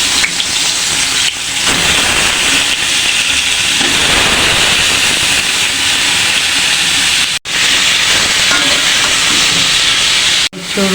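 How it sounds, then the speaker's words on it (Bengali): Young jackfruit pieces, steamed first and coated with salt and turmeric, fry in hot oil in a wok, giving a loud, steady sizzle with hiss and crackle throughout. Two brief drops break the sound near the end. "এখন আমি কাঁঠালগুলি ভেজে নিই।"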